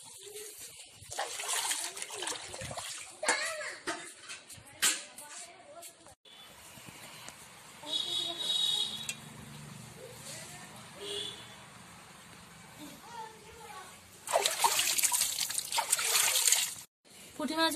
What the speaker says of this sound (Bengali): এইভাবে জলের মধ্যে একটু ঘষে নেব মাছগুলোকে হালকা করে, আঁশগুলো পরিষ্কার হয়ে যাবে।